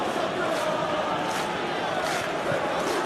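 Football stadium crowd at PSG versus Inter Milan roaring steadily in approval after a hard defensive tackle, a dense continuous wash of cheering voices with a few louder swells, sustained throughout.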